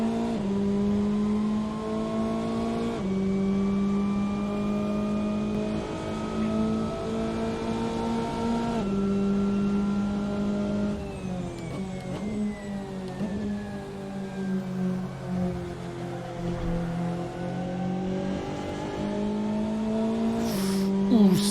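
Race car engines at Sebring in Assetto Corsa, a loud sustained engine whine that rises through the gears, drops at each shift and swells again, with other cars close by.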